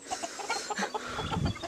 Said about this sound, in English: Here's my favorite chicken.